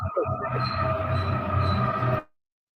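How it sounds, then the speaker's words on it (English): A train rumbles past a home beside the tracks, a loud, steady roll of wheels with faint squealing that cuts off abruptly. "So you hear that train when it comes through?"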